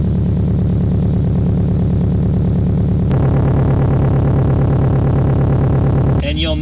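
Subaru WRX wagon engine idling steadily and close, a continuous low rumble with an even pulse that shifts slightly in pitch partway through, with no talk over it.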